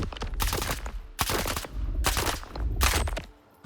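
Four bursts of rapid automatic gunfire in the video game STALKER 2, each about half a second long, separated by short pauses, loud and close, with no talking.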